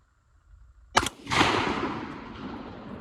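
A 12 gauge shotgun fires a single sharp, loud blast, followed by a long ringing echo that slowly fades.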